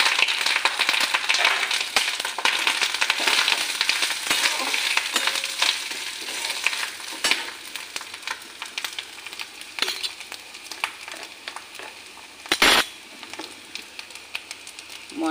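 Chopped coconut pieces are tossed into a sizzling spice tempering in a pan, producing a loud, continuous crackle with stirring scrapes throughout and one sharp clatter near the end.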